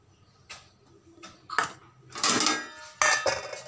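Dishes, pots and pans clatter and clink close by as they are washed in a home kitchen, scattered knocks building into two longer bursts of scraping and rattling, with no talk.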